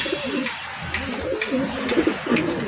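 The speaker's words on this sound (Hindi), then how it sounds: "देखिए दोस्तों ये जंगली कबूतर है" Wild pigeons cooing close by, several soft repeated coos in a gentle rhythm over a faint background hiss.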